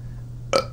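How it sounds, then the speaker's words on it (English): One short, abrupt burp, loud and close, over a low steady background hum. "I'm burping."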